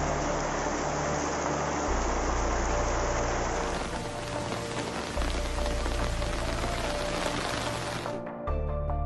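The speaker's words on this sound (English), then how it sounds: "The rain floods the streets and roads." Heavy rain in a storm in Oman pours steadily and densely, close and loud, hammering surfaces without a break, with a brief shift in texture near the end.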